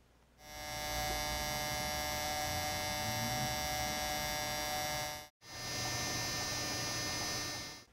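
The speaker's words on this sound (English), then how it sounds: "there's that particular whirring sound. And that whirring sound actually comes from this drum rotating at a high RPM" A camcorder's video head drum spins at over 1,000 RPM, giving a steady, close electrical whirr with a strong hum, broken by one brief dropout before resuming evenly.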